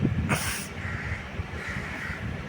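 A single crow caws once near the start, loud and close, over a steady background hiss.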